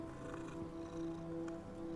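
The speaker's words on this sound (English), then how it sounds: "Hey, you can pet the cat." A cat in the video game Hogwarts Legacy purrs steadily while being petted, a low, continuous rumble at moderate volume with no talking.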